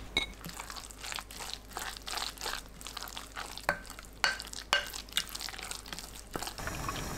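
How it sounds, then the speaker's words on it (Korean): A spoon stirs a thick eggplant and onion batter made with frying flour, potato starch, salt, cheongyang and red chili peppers and crab sticks, giving wet, squelching, rhythmic strokes with scraping against the bowl, close and fairly clear. "청양고추, 홍고추, 크래미 넣고 섞어주세요."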